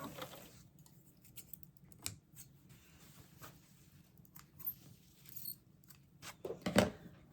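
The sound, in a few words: cutting threads with scissors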